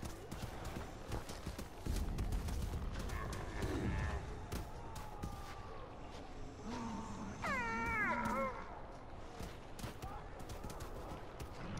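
A big cat in the video game Far Cry Primal growls with rising and falling snarls, strongest near the end, amid busy in-game noises such as thuds and clatter.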